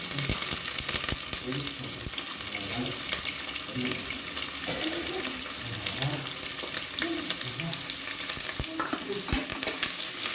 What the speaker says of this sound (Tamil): முதல்ல நம்ம வெங்காயத்தை போட்டு வதக்கணும்